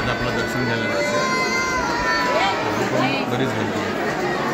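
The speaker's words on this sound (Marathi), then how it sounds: "बरीच गर्दी" Pilgrims crowd the Dattatreya temple at Ganagapur, and their dense, continuous chatter fills the space all around, with a child's cry and nearby voices rising above the murmur.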